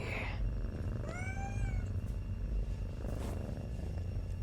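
A cat in the game Postal: Brain Damaged lets out one clear rising-and-falling meow over a constant low droning rumble, with a few faint clicks afterward.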